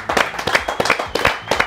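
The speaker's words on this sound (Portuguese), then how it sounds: "palmas nesse estúdio" Studio audience applause on a talk show, a short burst of a few separate, close claps in an uneven rhythm, loud and brief.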